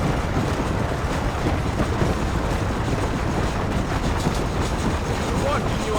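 Train running on rails in Red Dead Redemption gives a loud, continuous rumbling roar with rhythmic rail clatter, close and steady with no pauses.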